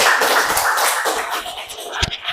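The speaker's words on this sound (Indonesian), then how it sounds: "Tepuk tangan untuk kelompok 1." A classroom of students clapping together for a presenting group, a busy patter of hands that thins out toward the end, with a few sharper individual claps.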